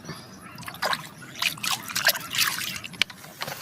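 Water poured into an agricultural sprayer tank before adding fungicide on a papaya farm, an uneven splashing trickle with brief drips and sloshes that build in the middle of the pour.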